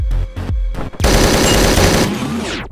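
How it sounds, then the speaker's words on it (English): Loud assault rifle fire from the video game Hotline Miami 2: a few separate sharp shots, then a dense, rapid automatic burst lasting over a second, close and punchy, with no talking. "We're just gonna have an assault rifle."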